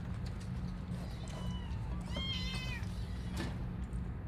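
A cat meows in a single drawn-out call midway, standing out over a constant low background rumble, with a few faint sharp sounds around it.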